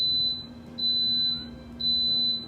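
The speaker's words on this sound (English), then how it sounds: "And it's gonna beep 3 or 4 times." An Instant Pot electric pressure cooker gives three long, shrill electronic beeps in a row, evenly spaced and loud against a faint background hum.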